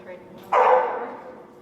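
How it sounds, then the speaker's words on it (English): A single short dog bark sounds up close over faint background murmur. "Who's barking over here?"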